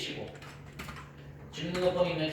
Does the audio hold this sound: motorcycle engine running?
no